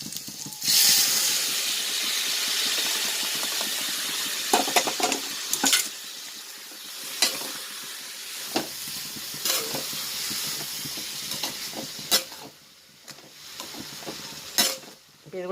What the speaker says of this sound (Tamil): முட்டைக்கோஸ் இந்த வெங்காயம் பச்சை மிளகாய் வதக்கோடு சேர்த்து ஆட் பண்ணிடலாம்